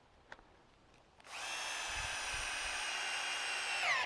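A power drill drives a weatherproof Blue Coat screw into pressure treated timber, one steady whirring run of about three seconds after a few light knocks, close and fairly loud.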